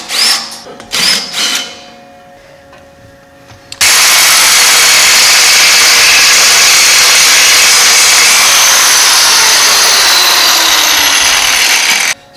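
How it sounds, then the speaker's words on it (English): An angle grinder cuts a groove into the metal cover of a 14-bolt axle, starting abruptly after a few quieter knocks and handling sounds and then screaming at a steady, very loud pitch for about eight seconds, close and without speech. "So now we've got this grooved out with a grinder."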